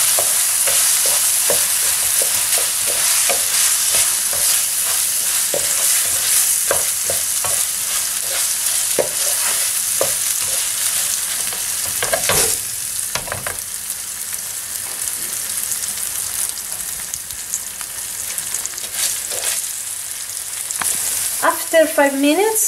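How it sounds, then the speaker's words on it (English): Rice and onion toast in a pan for risotto, a constant loud sizzle broken by repeated scraping stirs of a utensil against the pan, heard up close with no talking. "My onion is ready, so now I have the rice and I have to toast it."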